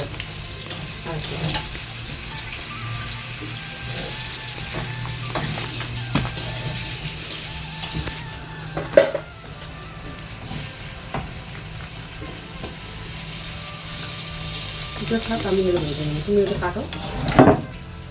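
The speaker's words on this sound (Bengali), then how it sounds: "মা আজকে করছে পটল ভাজা," Pointed gourd (potol) fries in a pan, a steady sizzle broken by repeated scraping and stirring clatters, with a few louder utensil knocks near the end, close and continuous.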